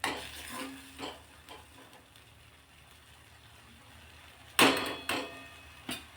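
A spoon stirs ridge gourd thecha in a pan, with a few soft scrapes and then some sharper clinks of utensil against metal near the end, quiet and close.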